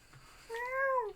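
A voice imitates a cat's meow, a single short rising and falling mew, fairly close and clear against a quiet background.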